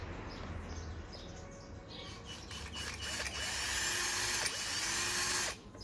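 A power drill bores holes in metal mounting parts for a rail-mounted solar panel system, with a whirring motor that rises and holds fairly close, plus a few mechanical clicks against faint outdoor background.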